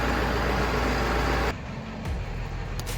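Engine of a 2000 Ford F350 pickup idling steadily after a water pump replacement, a loud continuous low rumble that cuts off partway, leaving a quieter mechanical hum.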